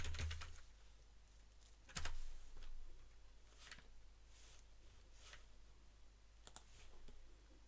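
Typing on a computer keyboard while entering a command at the command line, heard as sparse, faint, irregular key clicks over a quiet background.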